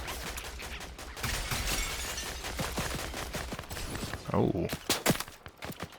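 Gunfire aimed at characters in Andor, a burst of sharp, rapid cracks and impacts over a dense noisy background, with a few heavier close shots near the end and a short voice exclamation.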